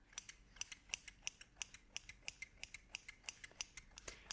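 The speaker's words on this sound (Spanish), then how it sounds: "me gusta el sonido de las tijeras" Rapid, steady snipping of hair-cutting scissors close by, crisp metallic clicks repeating in an even rhythm with no talking.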